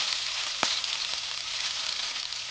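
Steady, close sizzling of dried red chillies frying in ghee, with a single sharp crackle early on and no voices.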